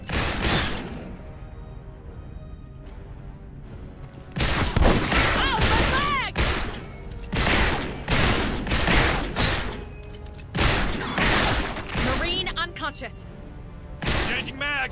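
Rapid automatic gunfire fills a combat scene in Aliens: Dark Descent, coming in loud bursts separated by short pauses, with soldiers' voices shouting over and between the volleys.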